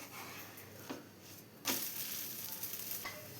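A dosa freshly flipped on a hot oiled pan, steady soft sizzling throughout with a couple of brief sharp crackles and scrapes, close and fairly quiet with no talk.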